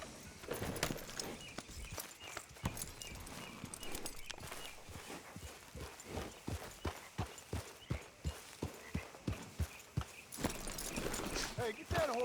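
A horse's hooves clip-clop in a steady, even rhythm at a walk in Red Dead Redemption 2, close and distinct, with a voice speaking briefly over the game sounds.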